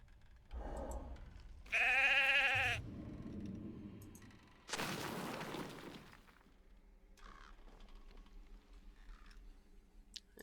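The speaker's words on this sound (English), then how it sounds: "let's get this captive sheep" Sheep bleating in a fantasy online video game, one clear loud bleat among scattered clicks and bursts of game noise, then quieter background sound continues.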